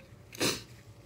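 A single sneeze from an adult indoors, a sharp bright burst near, with the room otherwise quiet.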